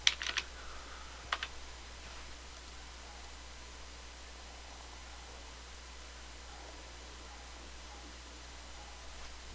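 Keys tapped on a computer keyboard to enter a name, a few quick clicks at the start and one more burst shortly after, then a long stretch of faint steady hiss.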